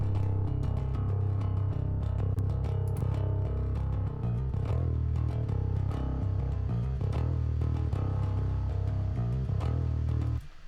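A bass track run through an Aurora DSP Mammoth plays as a loud, sustained, low-heavy drone with little high end for about ten seconds, then cuts off abruptly.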